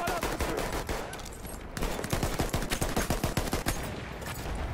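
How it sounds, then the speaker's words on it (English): Rapid gunfire in Battlefield 1, dense bursts of automatic shots and single cracks overlapping loudly and continuously, close and sharp with no pauses. "The whole time I'm shooting."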